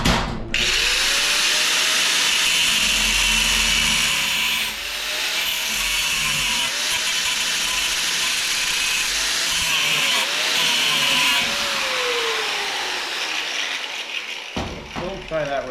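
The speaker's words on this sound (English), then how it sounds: "I think I need to grind this part out first so it has room to tap over." An angle grinder grinding metal on a four-way log splitter, a loud continuous high-pitched whine with the pitch dipping as the disc bites, running for about fifteen seconds before cutting off.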